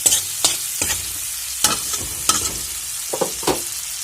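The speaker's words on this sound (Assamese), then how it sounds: "পেষ্ট কৰি লৈ তিলখিনি ইয়াতে মই এতিয়া দি দিম" Sesame paste being added to spices frying in hot oil for a fish and sesame curry, with a soft sizzle broken by several sharp scraping and stirring clatters spaced through a few seconds, close by.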